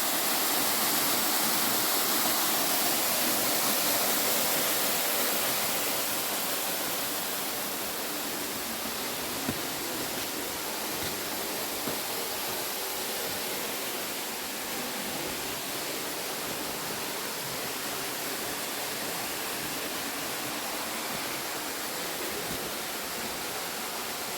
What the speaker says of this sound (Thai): ถือว่าเป็นน้ำตกที่แปลกๆนะ เพราะว่ามันทะลุหิน ลง มา เลยเป็นรู